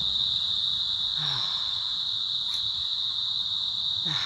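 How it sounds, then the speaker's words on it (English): Cicadas drone in Australian bush near a water fountain, a loud continuous high-pitched buzz held steady throughout, with a few faint other sounds underneath. "So listen to all the cicadas coming on."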